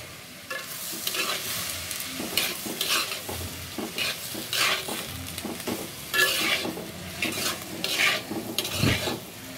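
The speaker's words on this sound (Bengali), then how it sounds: "পাঁচফোড়ন, কাঁচা লঙ্কা, হলুদ আর মরিচ আর লবণ দিয়েই শশাটা ভাজি করব।" Cucumber frying in a pan with panch phoron, green chili, turmeric, red chili and salt, a steady sizzle broken by repeated scraping stir strokes of a utensil against the pan, close and with no talk.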